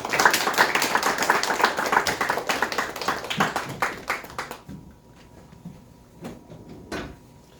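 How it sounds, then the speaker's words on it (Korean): Applause in a church welcoming a pastor to the stage at a Wednesday worship service, rapid clapping for about four seconds that tapers off, then a few scattered claps in a quiet room. "나오실 때 박수로 환영했습니다"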